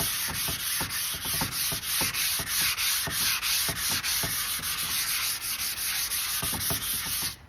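Fine sanding pads scrub a painted surface in steady rapid back-and-forth strokes, a close, even rasping swish that continues with a regular rhythm for several seconds, no voices.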